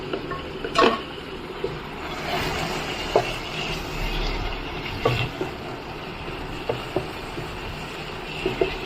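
Mutton masala being stirred in a pan over a medium flame, a low steady sizzle with scattered spoon clinks and scrapes against the pan, close, no talking.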